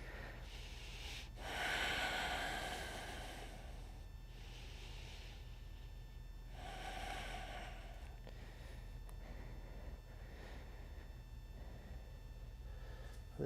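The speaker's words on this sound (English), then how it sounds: "Take 3 more breaths." Slow, deep breaths during a yoga pose come in long airy rushes, roughly four inhale-exhale swells spaced a few seconds apart, quiet and close over a low steady hum.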